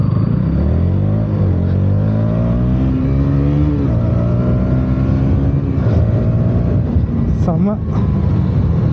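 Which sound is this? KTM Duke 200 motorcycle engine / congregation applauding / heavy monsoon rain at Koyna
KTM Duke 200 motorcycle engine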